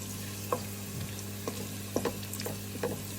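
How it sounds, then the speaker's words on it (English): Garlic and ginger fry in a pan of chicken curry, with a low steady sizzle under repeated clicking spoon strokes as the mixture is stirred. "Now we can add in the garlic and ginger. Mix, mix, mix."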